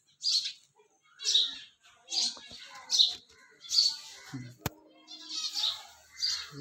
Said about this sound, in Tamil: குருவி கூடு கட்டிருக்கு எல்லா பக்கமும் குருவி இருக்குது